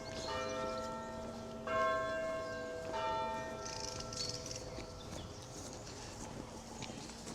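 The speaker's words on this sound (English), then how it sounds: "so there's a bell ringing on the church" Church bell ringing at noon in Grasmere, a village church beside a cemetery, with several sustained tolls under a low outdoor background and a faint hiss late on.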